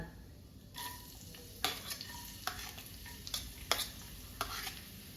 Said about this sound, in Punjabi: ਲਸਣ ਨੂੰ ਵੀ ਆਪਾਂ ਲਾਈਟ ਬ੍ਰਾਊਨ ਹੋਣ ਤੱਕ ਭੁੰਨ ਲੈਣਾ